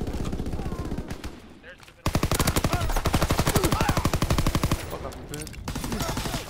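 Automatic gunfire in a WWII video game, rapid machine-gun bursts hammering loudly and continuously after a brief quieter stretch, with players shouting over the shooting.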